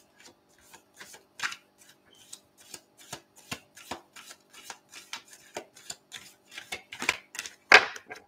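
A deck of Goddess Love Oracle cards is shuffled close by, giving a series of quick, crisp riffling flicks and taps in an irregular rhythm, growing busier and louder near the end.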